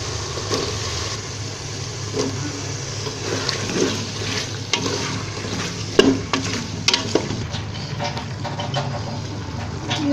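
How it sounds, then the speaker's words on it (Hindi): Cut potatoes frying in a pan with spices for an aloo anday dish, a steady close sizzle with stirring scrapes and clatter running throughout, no talking. "अब इसमें हमने जो आलू काट के रखे हुए थे वो ऐड कर देंगे"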